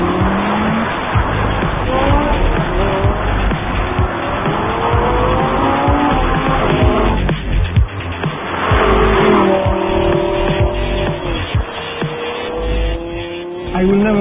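Lamborghini Gallardo Valentino Balboni Edition on the road, its engine rising through repeated gear pulls with clear upshift breaks, loud and close with little talk.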